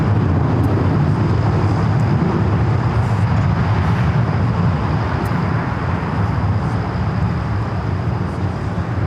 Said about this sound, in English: Airlines 2127 taking off to Newark on the 757-200